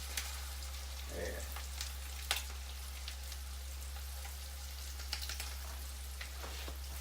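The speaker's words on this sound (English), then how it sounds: "I want a quick crab cake, so I'm going to do them on my stove" Crab cakes fry in a pan on a stovetop, a quiet even hiss of oil over a low constant hum, broken by a few sharp pops and crackles.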